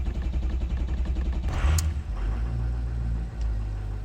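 Ford F250 with a 6.0 diesel engine in a no-start condition, cranking and running roughly, a steady close, loud low rumble with a brief harsher burst midway.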